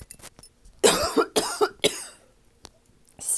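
A person coughs several times in quick succession, close and loud, after a few faint breaths, then a short pause and another breath.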